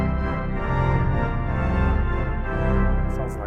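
A 1906 Felgemacher pipe organ sounds with a 16-foot coupler drawn, giving a dense, sustained chord with a heavy low register that swells and shifts gently over a few seconds, full and resonant in a reverberant room.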